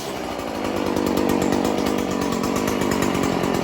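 Stihl FS 40c weed eater two-stroke engine firing up and running, a loud buzzing rattle that jumps in after a brief moment and holds a fast, steady idle at close range.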